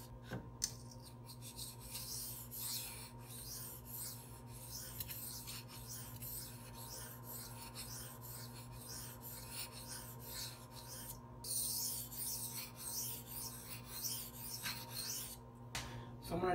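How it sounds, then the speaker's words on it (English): Close, rhythmic scraping as a blade is passed back and forth on a 1.2K Gritomatic silicon carbide sharpening stone, strokes repeating steadily with a few short breaks. "So I'm going to do some back and forth passes and just let you guys hear the difference in the stones."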